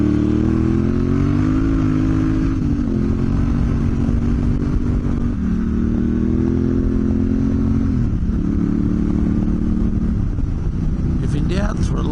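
A motorcycle rides along a sandy track in Bringalilli State Forest, Inglewood section. The engine drones close and loud with repeated rising and falling revs, while wind rushes steadily and loose gear rattles throughout.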